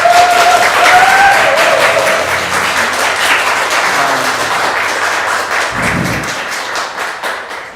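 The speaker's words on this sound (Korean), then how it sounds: "여러분 박수로 한번 환영해 주시기 바랍니다." A church congregation applauds in welcome during a worship service, dense clapping starting loud and gradually tapering off, with a few voices mixed in.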